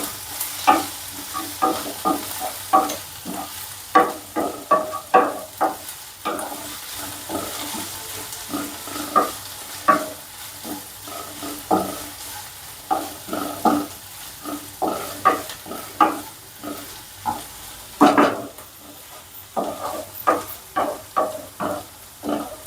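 Green turmeric roasts in a pan with garlic, ginger and chillies, stirred briskly. Rhythmic clacking spatula strokes repeat over a steady sizzle for a long stretch, close and fairly loud.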